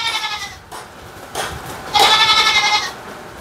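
A Barbari breed goat with her two kids bleats in several wavering cries close by, the loudest call coming near the end, with no talk over it.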